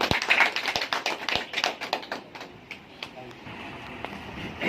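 An audience gives applause at an award event, a burst of close, sharp claps and taps that thins out after a couple of seconds, leaving quiet room noise behind.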